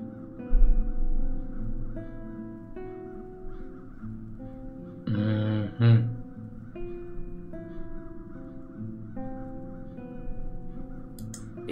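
Crows in the fantasy game Satinavs Ketten, heard as a low harsh cawing under a steady droning music bed, with one louder burst of calls midway, no speech.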